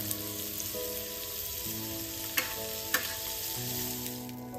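About 1.5 to 2 spoons of butter sizzle steadily on a hot griddle pan, a constant crackling hiss with a couple of faint clicks, no voices.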